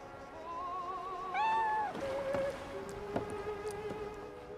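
House cat in a movie meowing several times, with a few drawn-out rising and falling cries over a quiet background and soft clicks in between.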